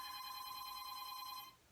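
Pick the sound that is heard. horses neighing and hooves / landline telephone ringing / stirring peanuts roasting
landline telephone ringing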